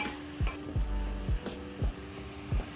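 Tomatoes and sukuma wiki sizzle gently in a pan while a utensil stirs and scrapes against the metal in about six evenly spaced strokes. The sizzle stays soft and close.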